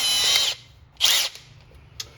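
A power drill whirs in two short bursts while driving a bolt-style hook anchor for a GM truck bed tie-down, with a faint click between them and another after.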